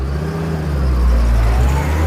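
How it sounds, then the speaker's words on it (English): A car drives past with its engine revving up, a loud and steady low rumble that holds and swells slightly over about two seconds. "And here comes la voiture, the car."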